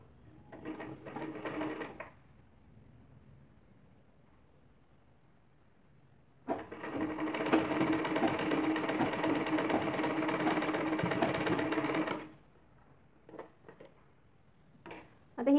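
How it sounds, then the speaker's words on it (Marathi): A sewing machine stitches a blouse shoulder seam in two runs, a short burst near the start and then a longer steady whirr of about six seconds, close and loud, with quiet handling noises between. "मी तुम्हाला एक शिलाई मारून दाखवते"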